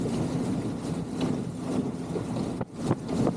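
A dinghy motoring across Long Island Sound under gray skies, with a steady engine drone, water rushing past the hull and heavy wind buffeting the microphone throughout.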